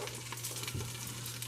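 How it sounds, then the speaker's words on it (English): Butter heating in a pan for a stovetop mac and cheese, giving a steady, soft sizzle and crackle with no talk over it. "So as you can see, the butter's getting nice and hot."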